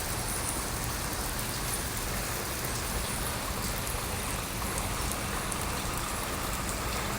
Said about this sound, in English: more concentrated rain.